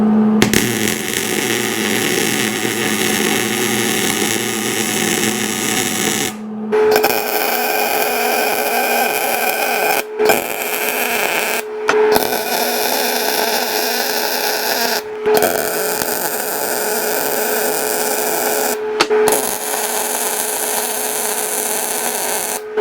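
Welding on a truck front differential, a steady loud crackling buzz in long runs broken by brief silent gaps between beads.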